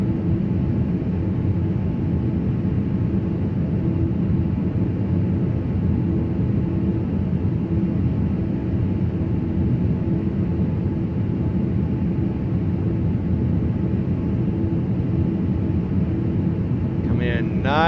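Airbus A350 taxiing in a flight simulator, Turkish Airlines livery: a steady low engine hum and rumble with constant tonal whine, unchanging throughout, with speech present.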